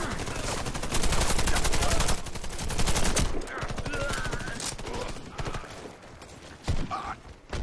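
Dense bursts of rapid gunfire and blasts from the shooter video game Warface, loud and continuous, with a few heavier explosions breaking through and a voice faintly under the action.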